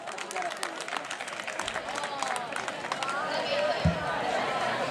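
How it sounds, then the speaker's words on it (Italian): Crowd applause for a jury member at a carnival choreography contest in Moncrivello, a scattered patter of clapping building steadily, with chatter and a voice speaking over it. "Un applauso a Luciano."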